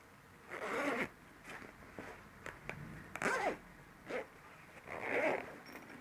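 A multipurpose pencil case with two zippers that join into one is zipped in several separate close strokes, each a short rasping pull with pauses between.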